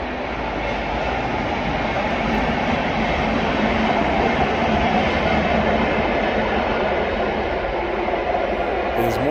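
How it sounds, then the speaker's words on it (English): A train rolls past on railway tracks near Bharuch, India in the morning, a loud, continuous rumble and wheel clatter that holds steady throughout at close range. "let's go ahead and take a look at the train as it passes"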